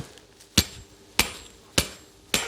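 Small knocking from a worn Booster moped engine with a Polini Corsa 70 kit and excessive play, four sharp evenly spaced knocks about half a second apart, close and distinct over a quiet background.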